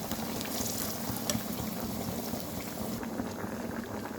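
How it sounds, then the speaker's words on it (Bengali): Onions frying in oil for dal and mashed potatoes, a steady close sizzle and bubbling that holds on evenly without talk. "এই যে ডালের জন্য পেঁয়াজ আর আলু ভর্তার জন্য পেঁয়াজ দিয়ে ভাজা হয়ে আসছে।"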